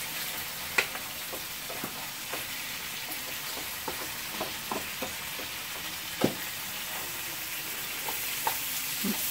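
Beef steak frying with onion in a pan: a constant close sizzle with scattered pops and crackles, steady and moderately loud without any talking.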